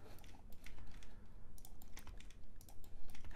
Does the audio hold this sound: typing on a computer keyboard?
yes